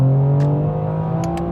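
A BMW car accelerates at half throttle on 93-octane fuel, a steady engine drone and whir building close by for the whole stretch.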